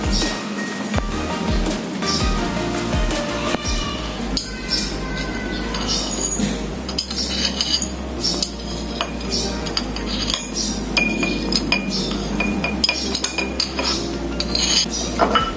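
Sugar tipped into a glass beaker during a chemistry lab preparation, giving busy clinking and scraping of glass and utensils that runs continuously, fairly loud and close, with no talking.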